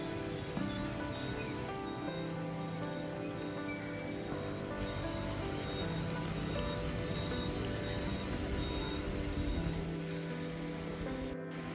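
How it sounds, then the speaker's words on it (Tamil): Fairly heavy rain falls steadily outdoors near the Navatkuli railway station in Jaffna after a long hot spell, making a dense, even hiss of drops that continues without a break. "ஓரளவு பலத்த மழை தான் பெய்யுது."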